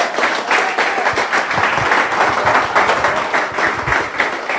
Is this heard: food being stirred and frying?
no